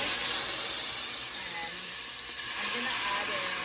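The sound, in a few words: red wine added to sautéing pan, simmering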